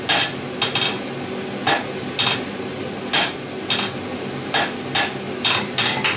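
Hammer blows on hot steel at an anvil while forging a wedge taper, ringing metallic strikes in an alternating light-and-hard rhythm, about a dozen evenly paced hits with no talking.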